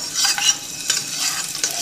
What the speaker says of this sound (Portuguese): primeiro a gente vai dar uma fritadinha no alho